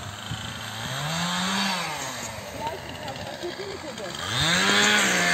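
A chainsaw runs outdoors during spring yard cleanup, its engine revving up and down in waves, rising loud twice, with voices talking over it.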